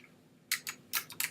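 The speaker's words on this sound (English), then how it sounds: "either I'm typing," Typing on a computer keyboard: a few crisp key clicks in two small bursts, close and fairly quiet, with no talk.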